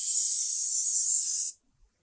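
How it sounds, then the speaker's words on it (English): A steady, close hiss of cleaner sprayed from a nozzle onto a Kawasaki Z900 motorcycle lasts about a second and a half, then stops abruptly, followed by a faint tap. "Now we're gonna give it a spray."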